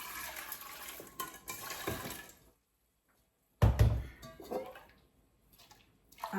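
Water is poured into a cooking pot of beans with a splashing, gushing rush, stopping for a silent stretch, then pouring again in a loud burst that tapers into trickles and drips.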